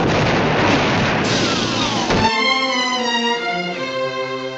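A US Navy cannon fires on a beach in wartime footage, with a loud blast and rumbling boom in the first half, then a droning engine-like tone continuing alone.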